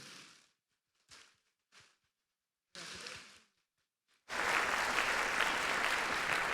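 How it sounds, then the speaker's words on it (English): A band concert audience bursts into a broad, sustained wash of applause that follows several short bursts of sound separated by silence, loud and steady to the end. "Give them a round of applause one more time."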